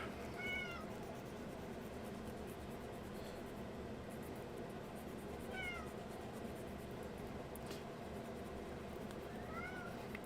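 A cat meows a few times, short rising-and-falling calls spaced several seconds apart, heard over a steady loud background hiss during a figure-painting session.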